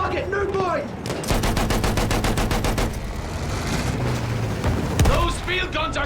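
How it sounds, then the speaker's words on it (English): Field guns and other weapons fire in a Battlefield 1 battle, rapid bursts of repeated loud shots and heavy blasts layered over a constant roar, with voices shouting among the gunfire. "Those field guns are shredding our outfit!"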